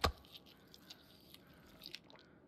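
Moose meat is eaten in The Long Dark, a sharp bite followed by faint, scattered chewing and squishy crunches, quiet and close.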